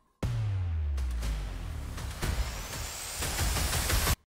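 A trailer-music transition effect built in FL Studio: a sudden loud whooshing burst with a deep low rumble and a rising sweep that swells, then cuts off abruptly.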